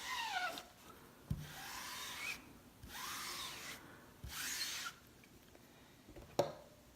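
A squeegee is dragged over a stencil on a denim jacket to push ink through it, giving several soft rubbing scrapes in a slow back-and-forth rhythm, close and quiet, punctuated by light taps.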